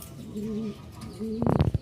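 A very large pigeon coos twice in low, soft throaty notes at close range, followed by a brief burst of fluttering, rustling movement.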